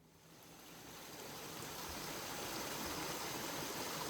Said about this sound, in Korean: 조금 전에 보셨던 청정 계곡물이 이곳에도 흐르고 있습니다.